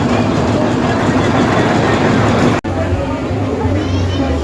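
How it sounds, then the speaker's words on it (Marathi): A toy train at Elephanta Caves (Gharapuri) runs with a steady, loud rumble under a dense wash of crowd chatter and people talking throughout. "अशी आहे ही टॉय ट्रेन"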